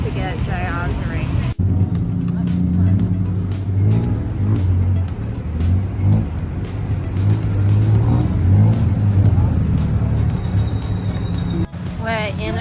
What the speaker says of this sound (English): We're in a tuk-tuk going to Alhurat.